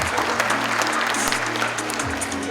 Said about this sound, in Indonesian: Tepuk tangan buat Pak Ridwan.